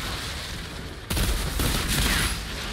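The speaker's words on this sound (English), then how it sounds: "Also, it's like a burst fire." Burst-fire gunshots in the shooter game Outriders: a sudden onset of rapid, dense, loud firing after a quieter first second, continuing as a sustained clattering fusillade with no voices.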